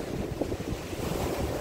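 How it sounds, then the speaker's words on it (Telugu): Ocean waves wash onto the beach at Mahabalipuram, a continuous rumbling surf mixed with gusty wind buffeting the microphone, with no voices. "ఇదంతా బీచ్."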